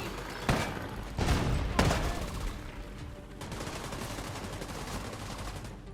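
Gunfire in a cutscene from the Division 2 game: sharp, loud bursts near the start give way to sustained rattling fusillades with machine-gun chatter, dense and continuous to the end.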